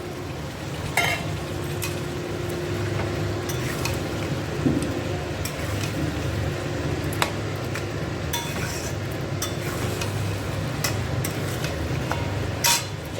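Marinated chicken frying in spice masala, a low continuous sizzle under occasional clinks and scrapes of a utensil against the pot.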